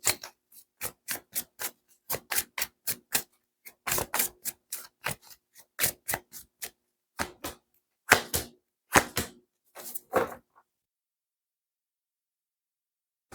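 Tarot cards being shuffled and drawn, heard as a rapid series of sharp, close card slaps and taps in uneven bursts, then falling silent.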